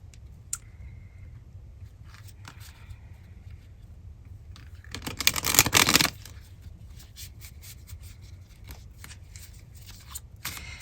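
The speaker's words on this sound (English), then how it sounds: "All right, do a better shuffle there." A deck of tarot cards being shuffled up close: one dense riffling burst of about a second stands out clearly against a quiet room, with a few light card taps and rustles before and after.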